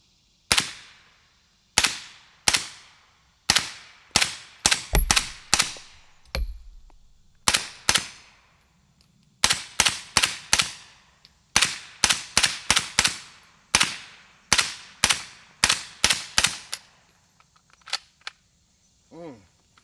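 Sharp suppressed gunshots from a Zenith rifle fitted with a Liberty Mystic X suppressor and firing 147-grain rounds, coming in quick strings of several shots with short pauses between, loud and close.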